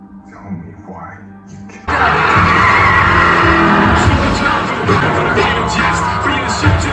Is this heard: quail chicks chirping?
no